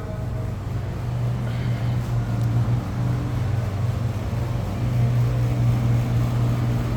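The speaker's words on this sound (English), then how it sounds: "It's a little loud in here because there's some exhaust fan sounds, fans up there" Exhaust fans run overhead in a car showroom with a 2025 BMW X3 30 xDrive on display, a steady loud low hum and whir filling the room continuously with no pauses.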